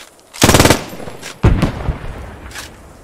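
Bursts of machine gun fire in a World War-style multiplayer shooter game, a loud rapid volley followed by a second burst with scattered shots and a distant rattle afterward.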